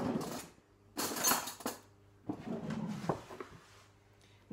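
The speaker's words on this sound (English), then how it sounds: "And in the catchment of the juicer is all the rind. So I'm just going to scoop out some." Light clinks and scrapes as lemon and lime rind is scooped from a juicer's catchment, a few short bursts of clatter separated by quiet pauses, close and soft.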